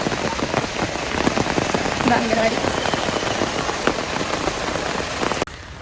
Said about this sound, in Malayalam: അയ്യോ മഴ മഴ മഴ മഴ മഴ പെയ്യുന്നു